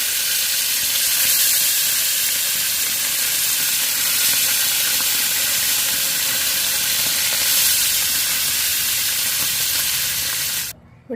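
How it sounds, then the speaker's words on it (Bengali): Onions and nigella seeds fry in a hot pan with a loud, steady, close sizzle that continues unbroken for about ten seconds before cutting off. "ঝট করে পেঁয়াজ কালি ভেজে নিই।"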